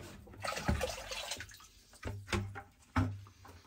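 Water splashing and dripping in uneven bursts, close by, with gurgles as liquid pours into a container.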